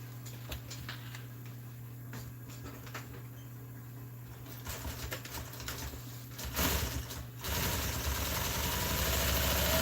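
A sewing machine stitches a seam in RV seat upholstery, its motor humming steadily with small mechanical clicks, then running louder and faster toward the end.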